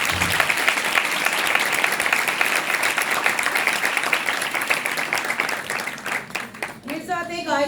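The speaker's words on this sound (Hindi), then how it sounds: "आज जोरदार तालियां खुदा को बजाएं।" A church congregation applauding loudly during an Urdu/Hindi sermon: dense, sustained crowd clapping for several seconds that thins out near the end as a voice begins.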